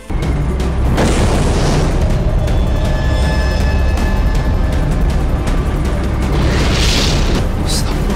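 Fireworks go off in loud booming bursts, one near the start and another toward the end, with crackling and a constant dense rumble between them.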